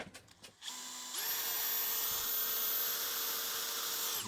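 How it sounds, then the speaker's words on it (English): A power drill bores a hole for an antenna connection bolt: a few brief handling knocks, then the motor spins up to a loud, steady high whine held close for several seconds. "I might drill a hole through here so that I can put a bolt and then attach a crimp to it"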